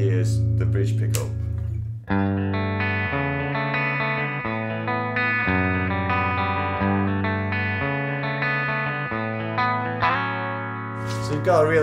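A single Vintage V6M24 electric guitar on its bridge humbucker plays a phrase with a bright, chorused and slightly distorted tone, notes sustaining and ringing with a steady rhythm.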